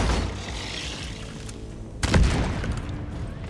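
An explosion in the cave mining game Deep Rock Galactic amid spider attacks: a sudden loud boom cuts through steady rumbling background, then the rumble trails off more loudly for about a second and a half.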